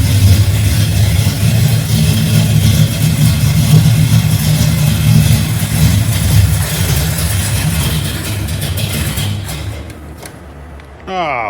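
An engine with a freshly rebuilt Holley 750 carburetor runs loud and close, holding a steady rumbling drone that eases slightly near the end before a short cutoff and a brief return.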